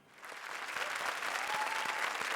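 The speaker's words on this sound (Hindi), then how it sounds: "तालियां" Studio audience applause on a television comedy show, clapping that quickly swells from soft to a full, steady ovation and holds to the end.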